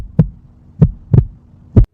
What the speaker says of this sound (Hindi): रघु का दिल जोर जोर से धड़कने लगा।